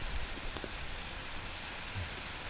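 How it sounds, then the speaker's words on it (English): Heavy rain falling outdoors beyond an open window screen, a steady soft wash of drops with faint scattered patters, fairly quiet and continuous with no one talking. "It's raining pretty damn good."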